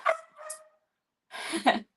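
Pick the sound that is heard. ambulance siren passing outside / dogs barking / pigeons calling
dogs barking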